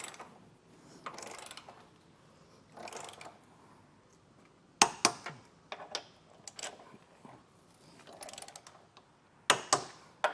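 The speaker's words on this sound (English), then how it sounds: "So now we'll just go through and get them all torqued down properly." A 3/8-inch torque wrench ratchets while Curt trailer hitch bolts are tightened on a 2021 Cadillac XT6, with short bursts of close clicking separated by pauses and a few sharper metallic clacks.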